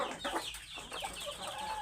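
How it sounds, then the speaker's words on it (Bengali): Chickens, Brahma among them, clucking on a poultry farm while they drink from newly fitted nipple drinkers. The steady overlapping clucks sound close and fill the whole clip. "এই যে মুরগি পানি খাচ্ছে"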